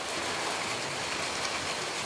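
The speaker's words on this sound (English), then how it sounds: "And it's actually raining today." Steady rain pours down in a dense, even hiss at a villa with two giant water tanks in Carmona, Seville, with water splashing continuously nearby and no talking.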